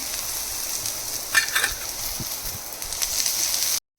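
Sliced bitter gourd rounds shallow-frying in a little oil on a pan over a gas flame, a close steady sizzle and crackle with a few stirring scrapes, then an abrupt stop.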